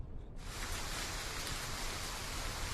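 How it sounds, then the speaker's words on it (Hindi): Steady rain falls in a Hindi-dubbed cartoon scene, a dense hiss that starts abruptly after a brief quiet moment and continues evenly, soft and alone. "आज तो बारिश रुक ही नहीं रही।"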